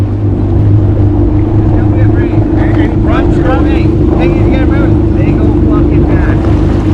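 A 2025 Yamaha Waverunner VX Cruiser HO drones steadily and loudly throughout the ride, its engine hum mixed with wind buffeting and splashing, while a rider's voice comes in faintly underneath.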